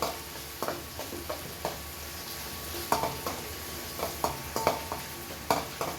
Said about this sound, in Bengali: তখন পেঁয়াজটা হচ্ছে একদম ভাজা ভাজা করে নিবে